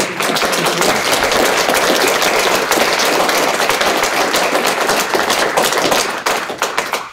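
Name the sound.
audience applause after a talk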